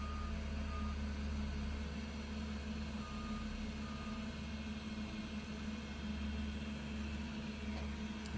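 A 3D printer's extruder motor feeds 100 mm of filament during calibration, giving a steady whine with a tonal hum that continues evenly and closely throughout, with no talk.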